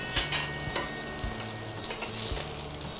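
Ghee sizzling under a sweet boli frying in a pan, a steady close crackle with a few soft clicks and light stirring noises, no voices.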